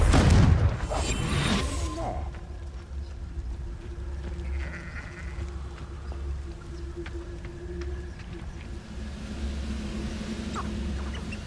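A Confringo fire spell explodes in Hogwarts Legacy, a loud burst at the start that fades into a low rumbling ambience.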